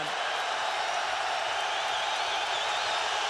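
Dense, steady roar of a basketball arena crowd during a free throw at a Louisville versus Syracuse game in the Carrier Dome, a loud continuous wash of noise lasting throughout with no clear voice on top.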